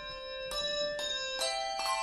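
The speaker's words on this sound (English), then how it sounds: "Mechelen is proud of its bells." Carillon bells chime from a tower in Mechelen, Belgium, four bright metallic strikes at roughly half-second intervals with long ringing overtones that blend and sustain, moderately distant and alone.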